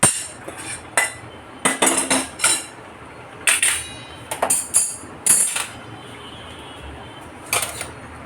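A spoon knocks and scrapes against a pot and dish while ghee-rich moong dal halwa is served out, giving a series of sharp metallic clinks in irregular bursts, close and fairly loud, with no talking.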